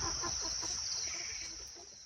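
Chickens cluck softly in a steady low chatter, with a constant high insect-like hum over the top.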